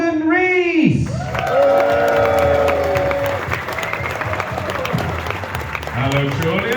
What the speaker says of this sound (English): So please, start clapping, whooping, and cheering.